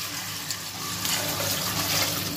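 Milk pours into a brass cooking pot while warming for a rice kheer, a steady rushing, splashing liquid sound that holds at an even level throughout with no talking.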